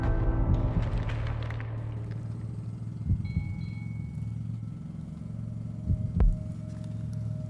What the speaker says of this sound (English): I was like hearing an engine.